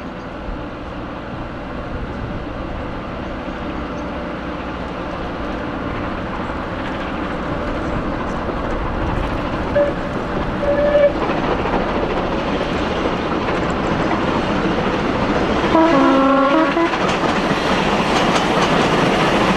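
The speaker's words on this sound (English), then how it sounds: "The evening sunshine catches her exhaust as Clanline powers away from Northern Junction with the return working to Victoria." Steam locomotive Clan Line powers away from Northern Junction on an evening return working to Victoria, a steady, loud rolling rumble and exhaust roar that builds gradually, with wheel clatter and a brief whistle-like tone near the end.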